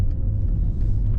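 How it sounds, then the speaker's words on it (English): A BMW M30 six-cylinder engine in a 35-year-old BMW runs smoothly, giving a steady, low, even rumble throughout with no speech over it. "that's the hallmark of a good 6-cylinder engine, that it just whistles away in front of you"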